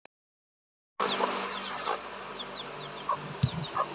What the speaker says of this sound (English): So we've got two silky hens in here.